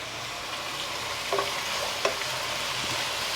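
Tomatoes fry in a pan for a raw prawn and okra tamarind stew, giving a steady, dense sizzle with a couple of soft stirring knocks and no talking.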